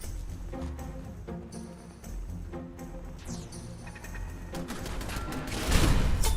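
Automated turrets in the video game Fallout 4 fire in bursts of rapid gunshots, with repeated sharp cracks and booms layered over game sounds, growing louder near the end.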